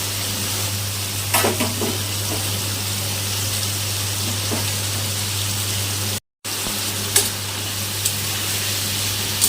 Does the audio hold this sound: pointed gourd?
yes